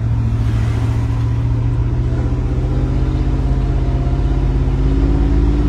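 A car engine, recently repaired after a fire, idles and revs in a steady, loud, close rumble with rising and settling pitch as it shifts, running continuously with no talk over it.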